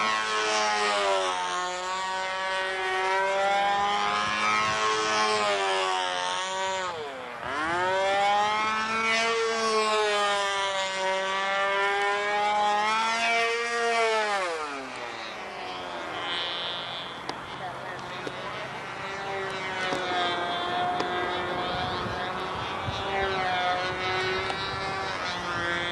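A model airplane engine whines through a flight at the Flushing meet in spring 1993, its buzzing pitch sweeping up and down repeatedly as the plane loops and passes, steady and fairly loud throughout.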